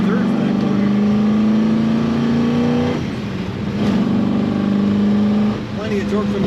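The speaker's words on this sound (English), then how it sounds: "Plenty of torque from the engine." Engine of a blue and white 1969 Chevrolet Camaro Z28 RS under way, a steady loud drone whose pitch climbs slowly, then dips and returns after a shift, with someone talking over it throughout.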